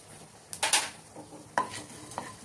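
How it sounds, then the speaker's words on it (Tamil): Black pepper and cumin seeds, added to a pan with sesame seeds, are stirred in brief scraping, clinking strokes with a light sizzle, close by and without talk. "லைட்டாக பொரிய விடணும் ரெண்டையுமே. அடுத்து மிளகு போட்டுக்கிடுவோம். சீரகமும் போட்டுக்கிடுவோம்."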